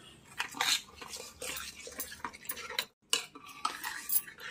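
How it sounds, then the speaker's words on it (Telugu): Jaggery is stirred into moong dal payasam in a pot, with a ladle making repeated quick scraping clinks against the metal, close and fairly quiet, with a brief pause partway through and no voices. "బెల్లం వేసి బాగా కలపండి."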